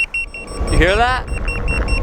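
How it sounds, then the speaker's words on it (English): A handheld remote control beeps outdoors at Domino Park on the Brooklyn waterfront, steady thin tones with a brief rising, warbling chirp in the middle over low street and wind rumble. "my remote started beeping"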